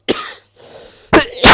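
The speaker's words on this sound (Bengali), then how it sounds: "ভাই, এখনো কাশি কমেনি।" A person coughs hard and close up: one short cough, then a rough throat-clearing rasp, then two loud harsh bursts at the end, with no speech.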